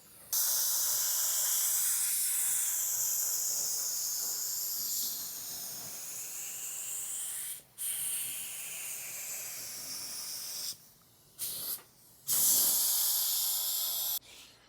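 A paint spray gun lays another coat onto a truck body, giving a loud steady hiss that runs for several seconds at a time and stops briefly between passes.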